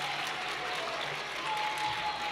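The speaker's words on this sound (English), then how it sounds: "Let's get a good round of applause for Geek Squad." An audience claps for a third-place team at a 4th and 5th grade Battle of the Books event, with steady, dense applause filling the room at moderate loudness for a couple of seconds.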